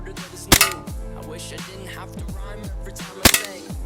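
Two sharp, loud cracks from a CO2-powered milsim blaster running low on gas, fired a few seconds apart over a busy, tonal background.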